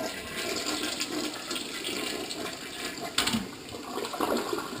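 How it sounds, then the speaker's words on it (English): A Mansfield model 3386 toilet doing a full flush, a steady rushing gush of water close up with a gurgling surge near the end, no voices. "now let's check out the full flush."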